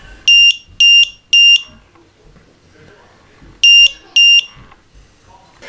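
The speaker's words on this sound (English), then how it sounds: "flip the switch and this thing will start beeping" Built-in low-voltage alarm buzzer on a Matek power distribution board with 5V/3A BEC, giving loud, shrill electronic beeps: three quick even pulses, a pause, then two more, close by with only faint background in between.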